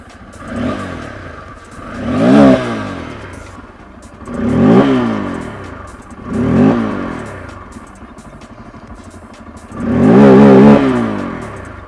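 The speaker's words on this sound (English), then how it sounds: "It's a dual port exhaust which sounds very loud and bassy" A 2024 Bajaj Pulsar N250 with a dual port exhaust revved hard five times, each deep, bassy blip swelling and dropping back to a steady idle in between.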